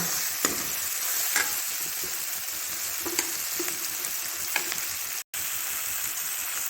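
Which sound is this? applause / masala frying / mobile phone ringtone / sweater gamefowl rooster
masala frying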